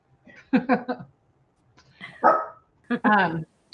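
A dog gives several short, sharp barks in three quick bursts, close by, with quiet pauses between them.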